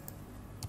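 Typing on a computer keyboard while entering a URL during Laravel route testing, a quiet steady patter of faint keystrokes with a slightly louder cluster of clicks near the end.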